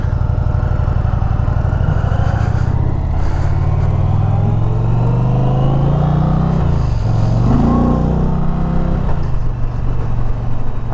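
An Indian Challenger Limited motorcycle engine rumbles loud and close, with short bursts of revving and rising pitch as it accelerates, running steadily throughout with no voices.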